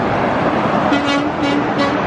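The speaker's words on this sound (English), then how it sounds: "I see people on the bridge are actually making the semi horn honking noise" Semi truck air horn honks from vehicles passing beneath a bridge, several short tonal blasts sounding over steady roadway traffic noise, fairly loud and close.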